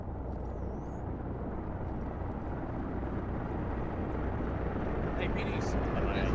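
Russian Mi-8 helicopters fly overhead in the military video game Arma 3, producing a steady, loud rotor and engine drone that holds constant for several seconds.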